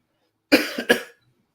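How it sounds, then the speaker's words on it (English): A pair of sharp, close coughs in quick succession, breaking the silence briefly before it falls quiet again. "That's a little bit of the cough right there."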